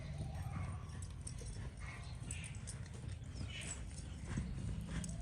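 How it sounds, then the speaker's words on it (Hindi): Marwari horse hooves clip-clopping at a slow canter, a repeated rhythmic thud of hoofbeats outdoors, fairly faint beneath a voice talking. "ये इनको आवाज़ लगाते धीरे से कैंटर चल, तो ये चाल भी अपने धीरे धीरे चेंज करता है।"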